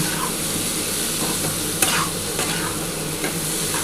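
Green chillies and pumpkin sautéing in a hot pan: a loud, dense, continuous sizzle close at hand, with a sharp scrape of a spatula partway through and no voices.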